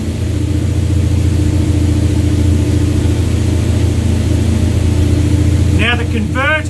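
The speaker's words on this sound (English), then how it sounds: "I'm into neutral. I'll just give it a couple of revs." A car engine held in neutral with a steady low drone that stays fairly even, heard close and loud, and someone speaking briefly near the end.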